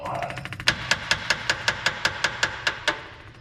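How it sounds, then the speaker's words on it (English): A small adjustable hammer taps the metal carburetor of a 1951 Chevrolet farm truck in a quick, even series of about a dozen sharp knocks, close by, with faint background noise. "use our adjustable hammer here."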